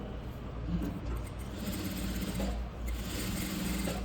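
Sewing machine stitching a blouse, a continuous mechanical whir with a quiet rhythmic rattle, close by and alone.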